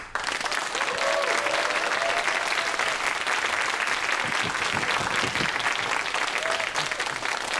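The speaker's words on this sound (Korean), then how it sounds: "큰 박수로 맞이해 주십시오" A lecture audience claps loudly and continuously, a dense, sustained wash of applause lasting several seconds.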